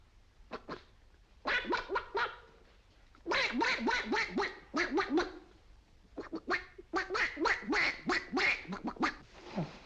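A voice imitates a duck, giving rapid bursts of nasal quacks in several runs with short pauses between, close and loud.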